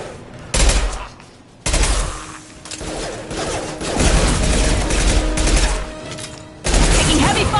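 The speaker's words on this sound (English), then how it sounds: "Taking heavy fire!" Heavy sustained gunfire in Mass Effect 2, dense overlapping shots and bursts with loud booming onsets, continuous and close across the whole stretch.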